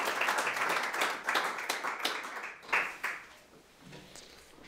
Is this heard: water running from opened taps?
no